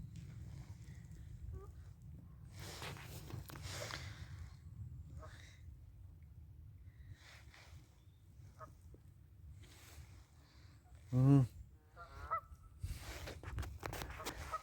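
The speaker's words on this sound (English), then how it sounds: "There is so many Canadian geese." Canada geese honk intermittently over a low boat motor rumble on a river, with a few scattered calls and one loud, close honk near the end.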